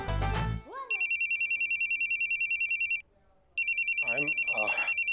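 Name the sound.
phone ringtone ringing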